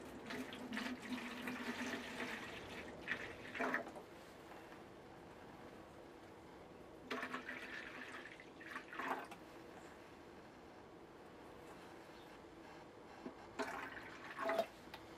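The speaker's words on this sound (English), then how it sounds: "We're putting a lime wash on and we're watering the tomato plants." Water pours and splashes in several bursts as a watering can or bucket of lime wash water is emptied over tomato plants in a garden, with quieter gaps between the pours.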